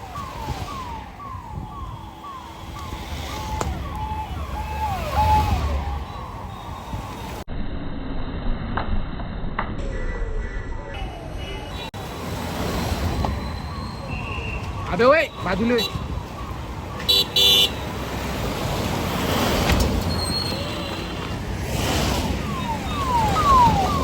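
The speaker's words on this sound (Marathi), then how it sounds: "एकामागे एक लगातार गाड्या आल्या आणि हेलिपॅडकडे ताफा जाताना बघू शकता तुम्ही" A convoy of cars carrying a political leader heads to a helipad after a rally in Warud, with engines passing, wailing siren sweeps and horns amid crowd noise and nearby voices.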